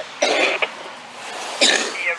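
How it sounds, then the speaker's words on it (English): Two harsh, raspy coughs sound close to the microphone, separated by a short pause. "you must smoke with a cough like that"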